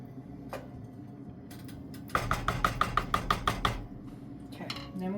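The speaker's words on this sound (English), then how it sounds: "Stir it all in there" Italian meat sauce stirred in a pot, heard as a quick, even run of about a dozen sharp spoon taps against the pot, close and clear, after a quieter stretch of faint clinks.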